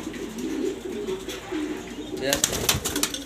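A red checker female pigeon coos in low, soft repeated phrases close by, followed by a burst of sharper clicks and rustling that could be wing flaps or handling.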